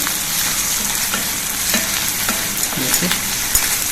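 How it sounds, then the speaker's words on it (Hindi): Onion with ground ginger and chili sizzles steadily in a pan, a loud continuous fry with a few soft stirring scrapes and clinks near the end. "हम इसमें ये अदरक और मिर्च का ये पिसा हुआ डाल देंगे और इसको भूनेंगे अच्छी तरह से"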